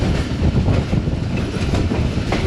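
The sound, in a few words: Rehman Baba Express train passing through railway station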